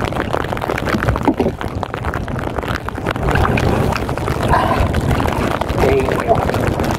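Steady wind buffets the microphone with a low rumble over open water, rain approaching, with faint distant voices now and then.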